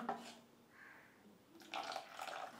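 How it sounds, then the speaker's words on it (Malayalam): A small splash of water is poured into appam batter, heard as a faint, soft trickle and slosh in short bursts in a quiet kitchen. "ഇനി ഒരു ശകലം കൂടെ വെള്ളം ഒഴിക്കുക"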